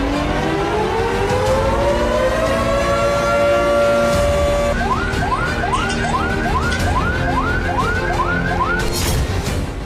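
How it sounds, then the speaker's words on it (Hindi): An air raid warning siren sounds across Ukraine during a missile and drone attack, its long tone climbing steadily before breaking into a loud, repeated warbling wail that fills the whole clip. "यूक्रेन के अलग अलग प्रांतों में खतरे का सायरन बजता रहा।"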